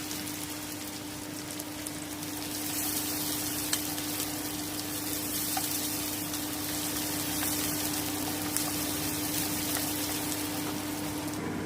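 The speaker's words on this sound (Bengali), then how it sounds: "আমি কিন্তু এটাকে একদম ডিপ ফ্রাই করব" Onions deep frying in hot oil in a kadai while making kadai chicken, a steady, dense sizzle running throughout at close range over a low, constant hum, with no talking.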